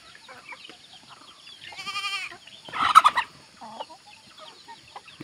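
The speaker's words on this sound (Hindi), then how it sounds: "ये देखो भाई देसी मुर्गा।" A desi rooster crows once loudly, followed by a burst of squawking and clucking from chickens nearby, with quieter farmyard noises around it.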